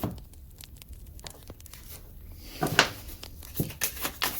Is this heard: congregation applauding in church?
no